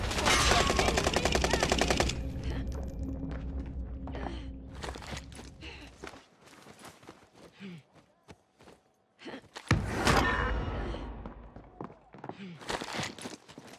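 Video game gunfire erupts in a rapid, loud, close burst of automatic shots, then gives way to scattered bursts, footsteps and heavy breathing, with a voice speaking over it.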